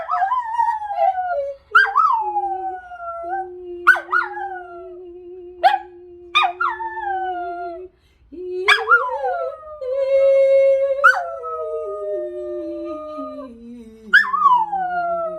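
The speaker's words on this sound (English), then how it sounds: "And what's a Berkshire video without MJ, the singing opera dog?" A dog howls loudly and melodically close by, drawn-out wavering notes broken by sharp yips, rising and falling like an opera singer over about fifteen seconds.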